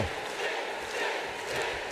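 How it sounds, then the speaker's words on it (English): Arena crowd in WWE 2K19 roaring for Sting, a dense, steady wall of cheering and shouting that holds at an even loudness throughout. "you hear this crowd getting behind the icon, the man they call Sting"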